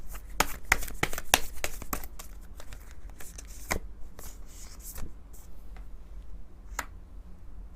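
Tarot cards are shuffled up close in rapid crisp riffles and flicks, with dense clattering at first that thins into scattered snaps and soft slides.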